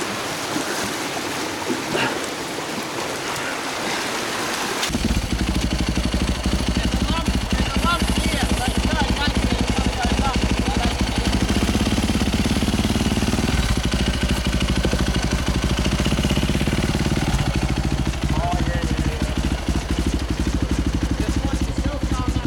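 A motorcycle engine starts up about five seconds in and keeps running loudly and steadily close by, with a rough, rumbling idle under shouts and talk in an outdoor morning setting.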